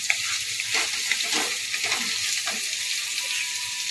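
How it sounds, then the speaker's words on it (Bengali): Sago, potato and carrot frying in a pan, with a steady sizzle beneath soft intermittent stirring scrapes, close by with no talking. "খুব বেশি নাড়বো না এক মিনিট সময় ধরে নাড়বো"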